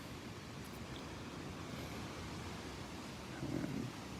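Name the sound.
ocean surf waves at the beach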